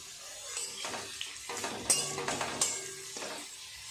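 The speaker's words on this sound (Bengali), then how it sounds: "আলুগুলো লাল লাল করে ভাজা করে নেব" Potato pieces frying in oil in a pan, with a soft sizzle under repeated scraping and stirring clinks of a utensil against the metal, moderately close.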